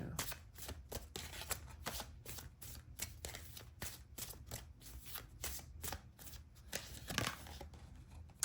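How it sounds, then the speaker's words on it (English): Tarot cards riffled and shuffled from a deck, a rapid run of crisp papery flicks and snaps repeating steadily and close by, with no voices. "let's get a card from this deck"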